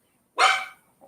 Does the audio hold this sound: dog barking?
yes